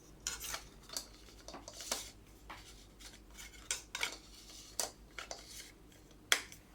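Camera lens hood being pushed into a K&F Concept sling backpack alongside a Sony A6000 with an FE 2.8 90mm macro lens, giving a series of light, close clicks, taps and fabric rustles at irregular intervals.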